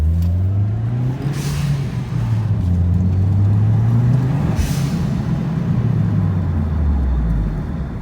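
A turbocharged Mitsubishi Lancer engine drones and revs up close on the road, broken twice by short, breathy whooshes of a turbo blow-off valve venting.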